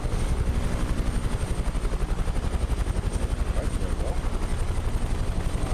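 A Huey helicopter in Microsoft Flight Simulator 2020 thumps steadily with a fast, loud rotor beat and a constant turbine whine, heard continuously throughout.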